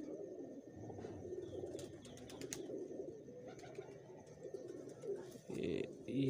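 A captured pigeon coos in soft, low repeated bursts close by, with faint rustling and background noise around it.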